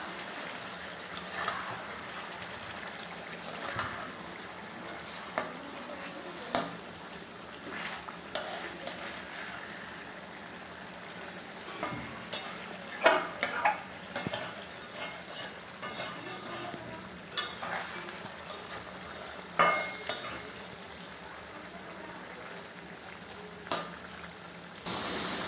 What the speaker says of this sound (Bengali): আমি প্রত্যেক পিসগুলো একটু হালকা করে উল্টে দেবো।